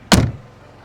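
A single heavy thud as the rear door of a 2020 Mercedes G-wagon is slammed shut, loud and close, with a brief dull resonance fading quickly into quiet.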